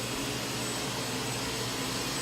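A household vacuum cleaner runs nearby with a steady, loud whooshing drone that stays constant throughout, with no pauses and no voices.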